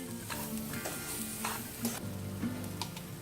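Grated coconut and powdered sugar stirred in a pan for rava ladoo, a steady scraping swirl with light sizzle and a few sharper clicks of the spoon against the pan, close and continuous, no voices.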